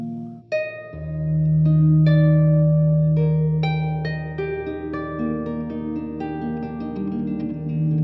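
A harp played through guitar pedals with long reverb rings out in a slow series of plucked notes. Each note blooms into a sustained pad while higher tones sound on top, all played solo with no talking.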